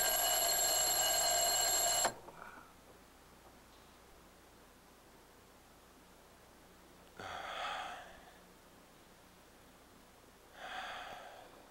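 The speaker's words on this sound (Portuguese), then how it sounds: "sou acordado pelo despertador. Um sistema de alarme." An alarm clock rings loud and close for about two seconds with a bright, steady electronic tone, then cuts off, leaving quiet room hiss broken by two soft breathy sounds like snorts.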